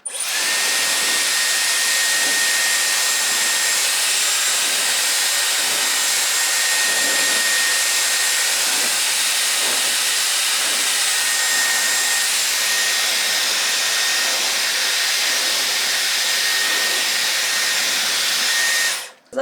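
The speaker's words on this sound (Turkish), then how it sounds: "saçlarımı direkt düz kurutmaya başlıyorum" Dyson Airwrap hair dryer running at its highest heat setting, a loud, steady close-up whoosh with a faint whine, continuous for about nineteen seconds before cutting off at the end.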